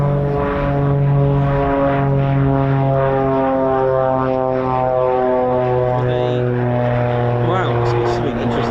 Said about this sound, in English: It's the Piper,